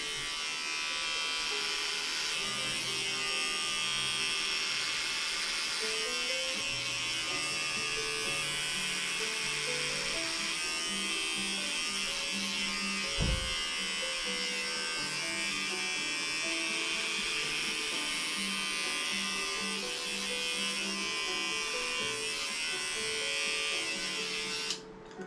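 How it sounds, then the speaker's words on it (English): An electric razor buzzes steadily while shaving a bald head, a close, continuous hum with slight shifts in pitch as it passes over the scalp, nearly unbroken for the whole stretch. "I think I'm gonna just cut it how I shave my head, so just do that routine."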